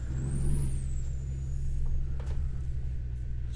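A 600 hp truck in Euro Truck Simulator 2 pulls away with a steady low diesel drone, a rising air-brake-like hiss near the start and a couple of faint clicks, close and constant.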